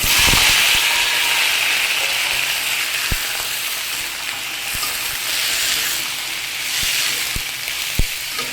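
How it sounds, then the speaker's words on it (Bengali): Pumpkin pours into hot oil tempered with cumin, bursting into a loud, steady sizzle up close, with occasional sharp spatters and pops as frying continues. "এই যে এবার কুমড়োটা ঢেলে দেবো"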